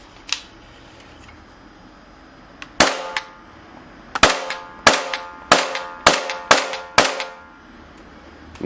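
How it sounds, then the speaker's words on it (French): Sharp metallic clacks from the bolt of a Maruzen M1100 airsoft shotgun being cycled, loud and close: a few isolated clicks, then a quick, evenly spaced run of about eight snaps over quiet room tone. "petit démo de la culasse mobile"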